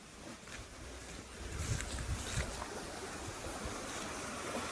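An outdoor stream used for bathing flows steadily, a continuous broadband rush and gurgle at moderate level with low churning swells, no voices present.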